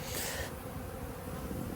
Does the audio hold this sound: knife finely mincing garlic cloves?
no